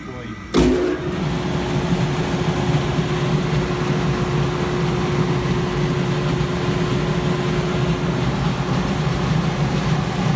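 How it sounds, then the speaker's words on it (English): A rooftop heating unit's three-phase motor kicks on with a sharp click, then settles into a loud, steady hum and whir that runs unbroken, with a voice speaking over it. "We'll just wait for that contactor to pull that three-phase motor in"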